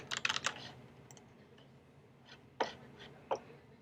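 A few quick bursts of keys typing a password on a computer keyboard, a cluster at the start and scattered single clicks later, close and fairly quiet in an otherwise still room.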